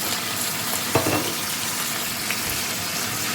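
Tilapia fries in a pan with a steady, dense sizzle throughout, broken by a brief crackling burst and a few small spatters, with no talk over it.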